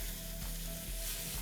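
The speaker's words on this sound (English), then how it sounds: "You really want to hear that sizzle" Onions sizzling in a hot frying pan while cooking a savoury pancake filling, a steady close crackling hiss with no talk over it.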